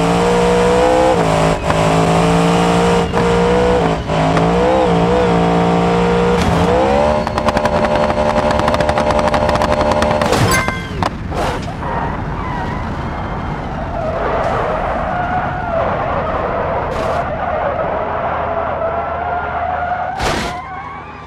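Ford Mustang driven in the BeamNG Drive game on a winter road with ramps, its engine note rising and shifting loudly for about ten seconds before tyres break into long, continuous skidding squeals with a few sharp bursts.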